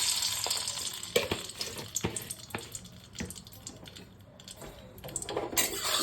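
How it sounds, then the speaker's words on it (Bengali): Salt hits hot mustard oil in a pan, setting off a bright crackling sizzle with sharp pops and spits scattered through the few seconds, close by, with no talk. "দেখো তেলটা কষকষে গরম হয়ে গেছে, একটু লবণ দিয়ে দিচ্ছি"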